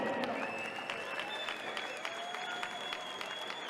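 A crowd at an MMA fight applauding steadily with scattered cheers and whistles, dense clapping throughout at a fairly loud, even level.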